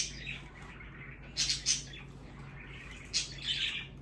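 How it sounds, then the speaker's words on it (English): Small birds chirp and tweet indoors in a living room, a few short bright bursts of calls over a low steady hum, fairly faint and with no speech. "Birds in the living room"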